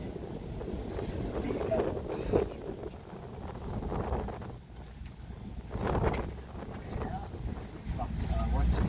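Strong wind at Beachy Head, Eastbourne, buffets and roars across the microphone in gusts, a continuous rumbling rush with voices faintly beneath it.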